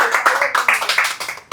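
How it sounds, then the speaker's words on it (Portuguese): A congregation claps in rapid rhythmic bursts during a church service, a short run of brisk, close-sounding hand claps. "Um aplauso para o Senhor."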